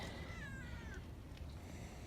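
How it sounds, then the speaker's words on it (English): A cat meows in a drawn-out, rising-and-falling cry lasting under a second, fairly close, over a steady noisy farm-workshop background near a Case IH 1020 combine header, with no talking. "Please, somebody, God, take this cat."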